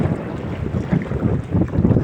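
Steady wind gusts buffet the microphone at the Dampalit dike in Malabon City, producing a rough, fluttering rumble with a faint wash of water in the background.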